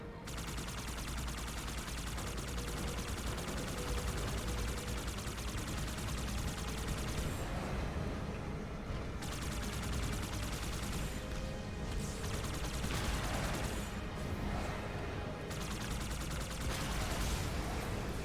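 Sustained turret gunfire in the video game Halo 2 Anniversary, a continuous, fairly faint stream of rapid shots that runs steadily throughout, with brief pauses in the upper hiss, and no voices.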